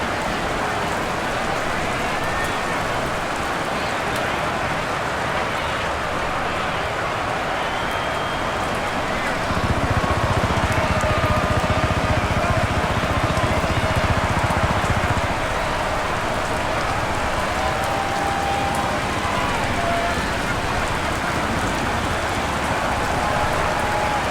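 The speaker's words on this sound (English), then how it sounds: "The rain set to continue as we are underway in the second half." Steady, dense rain hisses over an American football stadium in Madden NFL 23, with Dallas Cowboys against Washington Commanders, a constant wash that swells briefly louder midway, under a faint crowd murmur.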